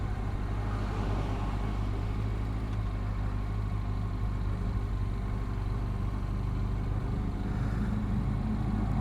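A motorcycle idling at a standstill after pulling over, a steady, close, low engine rumble that runs unbroken throughout with no talking.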